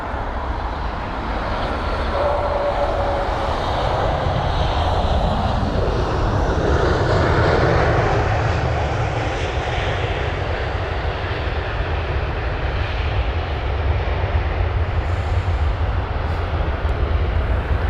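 An ITA Airways Airbus A320 jet at London Heathrow roars loud and steady with broad engine rumble for the whole stretch, no talk over it.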